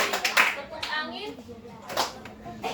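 Children clap in short bursts during a classroom clapping game, several separate hand claps spaced across the moment, mixed with children's voices chanting and talking.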